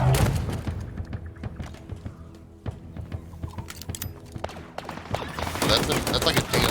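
Rifle gunfire from a DMR-style weapon in a video game trailer, with a string of sharp, punchy shots and mechanical clacks over a booming, layered soundtrack.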